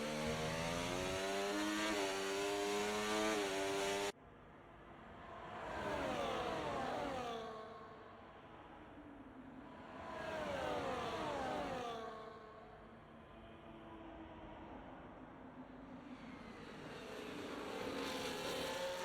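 Formula 1 cars in a racing video game at the Brazilian Grand Prix scream past in waves, engines rising and falling in pitch as each pass swells and fades, with a continuous high whine underneath.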